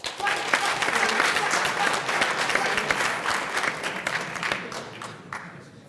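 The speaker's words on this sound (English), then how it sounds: "Can we give him a round of applause?" A student debate audience breaks into a round of applause, many hands clapping in a dense, steady wash that gradually thins and fades near the end, with some crowd murmur mixed in.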